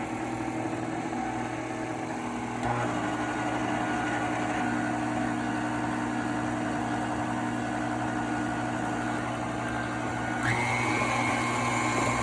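An electric mixer runs steadily at low speed while mixing cookie dough, a continuous motor whir with a slight shift in pitch partway through, with no talking over it.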